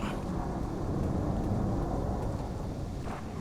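Thunder in the Roblox game Doors: a continuous deep, loud rumble with a rain-like wash, steady throughout and heard alone.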